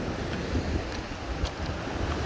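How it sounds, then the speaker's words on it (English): Wind gusts across the Baltic Klint hiking trail on the steep coastal cliffs of northern Estonia, a constant loud roar with heavy microphone buffeting and no talking. "So one side has wind, one side doesn't have wind, I guess."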